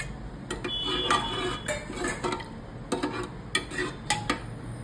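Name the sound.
stirring moong dal with coriander in a pot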